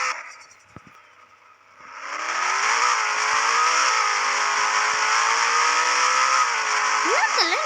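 A car engine in a video game revs up after a brief quiet stretch, settling into a sustained steady drone with slight pitch shifts and a short rising whine at the end.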